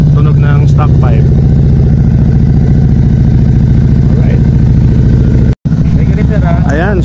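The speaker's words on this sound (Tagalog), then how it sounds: "Tunog ng stock pipe." A stock-exhaust motorcycle idles close by with a steady low rumble and a few light revs, running throughout under people talking, broken by a brief dropout near the end.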